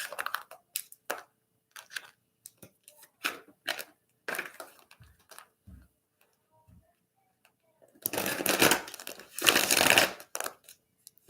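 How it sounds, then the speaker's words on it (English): Large, worn tarot deck being shuffled by hand: soft ticking card flicks and crinkly riffles through the first half, then two louder, dense bursts of rapid card shuffling near the end, close and clear with no talk. "It helps when we give ourselves room to shuffle, especially these big old decks"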